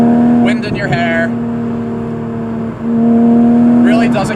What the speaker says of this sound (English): Rowing the gears, you know, revving the engine out, wind in your hair.